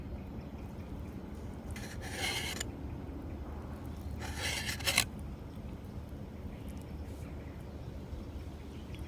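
A knife slicing through partly frozen rump steak outdoors for a Philly cheesesteak, making two short rasping, scraping strokes against the board over a faint, steady background.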